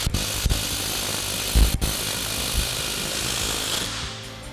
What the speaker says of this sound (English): we're going to go ahead and snug our hardware down using our 22mm socket on our impact